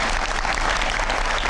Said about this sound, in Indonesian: Kita berikan tepuk tangan untuk Metro TV pastinya.